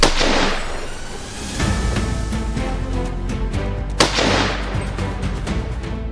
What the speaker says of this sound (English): no one managed to escape the marksman's accurate and decisive shots